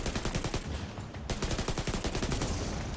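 Rapid automatic gunfire rattles in The Division 2, fast repeated loud shots close by with a brief pause near the one-second mark before the burst resumes.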